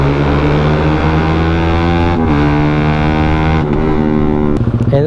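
Yamaha Sniper 155 motorcycle engine and exhaust after an Aracer racing ECU and dyno tune, a loud steady revving drone with brief throttle dips and a rising blip near the end, heard alone.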